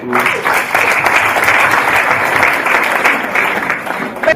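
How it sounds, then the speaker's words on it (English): An audience at the 2nd AfricaLics International Conference in Kigali, Rwanda, bursts into loud, dense applause that holds steady for several seconds with no talking over it. "I think we ought to clap for ourselves, everybody."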